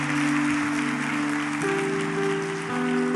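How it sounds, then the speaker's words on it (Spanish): A church congregation applauds together in a dense, sustained burst of clapping that fills the room, with organ or keyboard chords held underneath throughout. "Dele otro aplauso al Señor."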